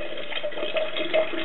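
Water runs from a kitchen tap through a filter while sprouts are rinsed, a steady close splashing stream with gentle gurgles and no talking.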